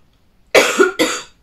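Cough from pollen allergy: two close, loud, harsh coughs in quick succession, the first longer with a rough throaty tail, the second shorter, near and clear in quiet surroundings.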